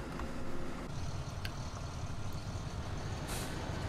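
The engine of a tracked version of the 370 front-loader tractor in Farming Simulator 2013 rumbles steadily and loudly at idle throughout, with a brief hiss near the end.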